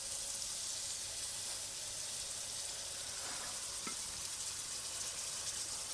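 Yogurt and dried red chillies hit hot oil in a pan, giving a steady, bright, close sizzle with a couple of brief stirring clicks.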